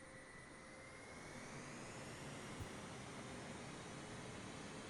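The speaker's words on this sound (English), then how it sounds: "that just sounds like a 747-8 engine out of the sim" A Boeing 777 jet engine with a GEnx character in Microsoft Flight Simulator 2020 gives off a steady, whining roar with faint tonal hum, swelling slightly as it is throttled up, heard alone.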